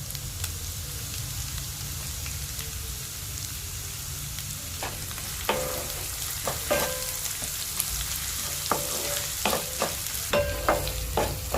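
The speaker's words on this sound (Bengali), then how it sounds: "হালকা করে এটা একটু ভেজে নেবে।" Chopped ginger and green chili frying in hot oil for a badi dish, a steady close sizzle with scattered sharp stirring clicks and scrapes in the second half.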